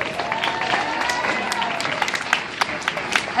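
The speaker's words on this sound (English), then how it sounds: "I want a big, big round of applause" Audience applause greets an opera and classical singer at an outdoor workshop event, dense steady clapping from a crowd with scattered sharper claps standing out toward the end.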